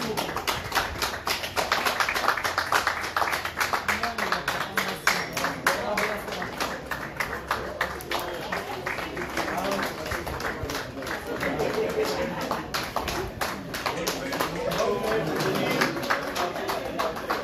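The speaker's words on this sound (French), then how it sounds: "C'est parti, on applaudit tout le temps" Guests at a civil wedding ceremony clap steadily and continuously as the civil officers enter, a dense, even rhythm of many hands close by that lasts throughout. Voices murmur faintly beneath the applause.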